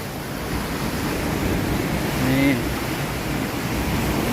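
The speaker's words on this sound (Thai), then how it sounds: "อันนี้คือน้ำลีนะครับ" Water of the Li river rushing past a weir in Mae Tuen, a steady broad roar of flowing water, close and continuous, with a faint brief tone partway through.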